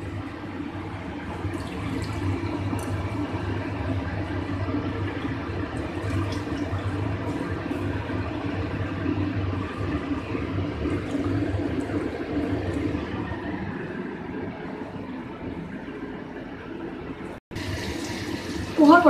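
Water is poured over poha (flattened rice) in a kitchen to rinse it, a steady splashing flow that runs for many seconds before stopping abruptly, followed by a brief clatter.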